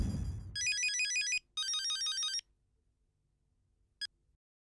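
Ringback tone of an outgoing phone call, two even electronic ringing bursts about a second long each, followed by a short blip and quiet.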